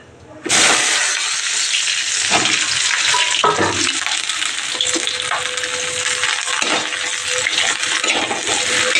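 Cut cauliflower goes into hot oil in a wok and bursts into a loud, sudden sizzle that continues strongly, with occasional clinks and stirring scrapes.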